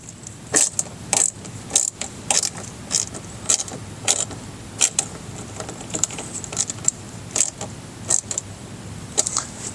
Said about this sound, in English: we'll switch over to our T15 Torx, and now we're going to tighten that OEM screw